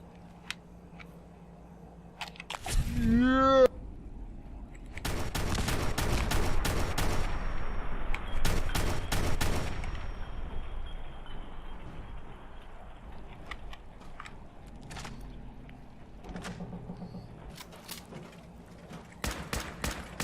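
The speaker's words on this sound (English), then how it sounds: "Opening fire." Bursts of gunfire in the video game Fallout 4 crackle in rapid clusters of shots, with a brief whooshing effect early on, separated by quieter pauses.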